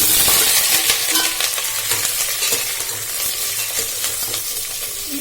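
Hot oil sizzles loudly in a pan as onion sambar is started, a bright close hiss broken by scraping stirs and small clinks, with no talking.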